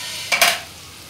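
Potatoes being stir-fried in a pan for sabudana khichdi, two quick scraping stirs with a brief sizzle, close and clear, then quiet.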